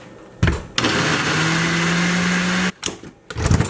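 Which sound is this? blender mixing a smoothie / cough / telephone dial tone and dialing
blender mixing a smoothie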